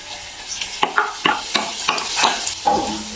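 Garlic ginger paste sizzles and fries in butter in a pot while a spoon scrapes and stirs in a series of sharp, regular strokes close by.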